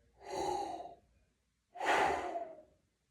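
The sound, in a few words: deep breath in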